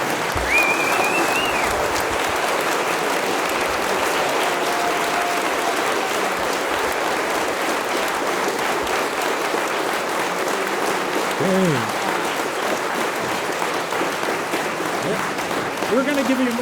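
Steady, sustained audience applause fills a concert hall after a church chancel choir's performance, loud and continuous throughout with a brief voice near the end.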